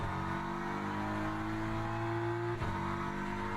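BMW GT race car in the Le Mans Ultimate racing game, its engine holding a steady, fairly quiet drone with a brief dip near the end, as if shifting or lifting off, with no talking.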